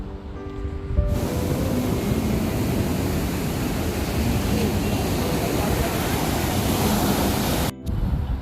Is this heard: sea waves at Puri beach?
yes